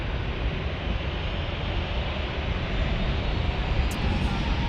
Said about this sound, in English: From Boston is this Alaska Airlines Boeing.